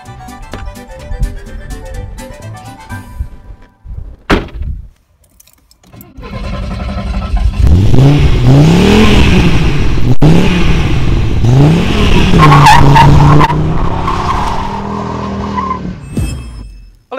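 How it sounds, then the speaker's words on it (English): An Audi 200 5-cylinder turbo engine cranks over and catches, then revs loudly several times through a Piperworks exhaust, the note rising and falling through deep, throaty swells close by. "let's start the engine and listen to the Piperworks exhaust"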